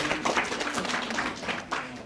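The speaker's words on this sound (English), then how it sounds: "Clap yourselves, ladies and gentlemen." A crowd claps and cheers at a Sacco official launch and office opening, a dense burst of applause that swells and rolls on steadily for a couple of seconds.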